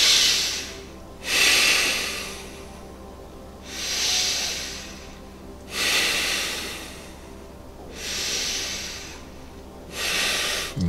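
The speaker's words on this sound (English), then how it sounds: "And keep on breathing strongly." Strong, forceful breathing during a guided meditation, five long rushing breaths at a slow, even rhythm, each swelling and fading close to the microphone with quiet pauses between.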